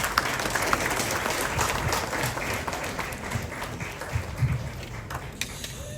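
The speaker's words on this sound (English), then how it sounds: "Please, once again, a round of applause" Audience at a Ghana youth initiative launch clapping, a dense continuous patter of many hands at steady loudness across the whole stretch.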